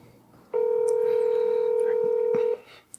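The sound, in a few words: telephone dialing an outgoing call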